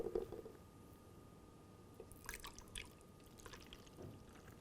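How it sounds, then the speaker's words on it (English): Panna cotta cream mixture is poured into a measuring jug with a spout, giving a quiet liquid trickle and soft splashy drips over a low background hiss. "now we're going to pour this into a measure with a spout"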